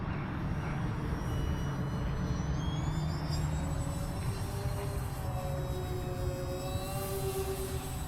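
Twin-motor RC Twin Otter model plane held at half throttle, giving a steady, even electric motor drone with faint rising and falling whine tones, fairly distant, with no voices.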